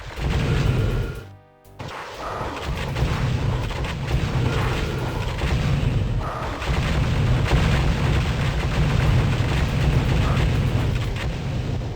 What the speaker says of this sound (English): They have a plasma gun and a missile launcher that, at least on hard, will eat through your health.